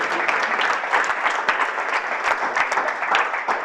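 A church congregation bursts into steady, dense applause during an Easter resurrection service, with many hands clapping loudly and continuously and no break in the sound.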